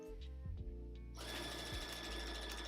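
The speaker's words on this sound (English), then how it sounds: "This is the first time that I'm actually sewing this thick on this machine. This is a Brother F420." A Brother F420 sewing machine stitches through thick material, a few short stuttering starts followed by a steady, fast mechanical whir running close and alone.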